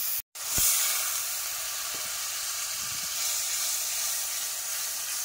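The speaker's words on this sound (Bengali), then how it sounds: "মশলাটা কিন্তু খুব ভালো করে কষাই হচ্ছে" Ground spices are fried in hot oil for a snakehead fish curry, giving a steady, close hiss and sizzle that runs throughout, with a brief dropout near the start and a few soft clicks of stirring.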